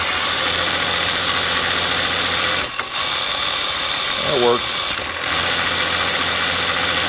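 An electric gearbox motor on a cantilevered rig shifts on the fly with a programmed delay: a steady hum drops out briefly, then a rising whine climbs through the shift, under a short spoken comment.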